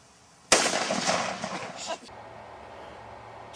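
A woman fires a gun far too large for her, giving a single loud, abrupt blast that rings out for about a second and a half before settling to a low background hum.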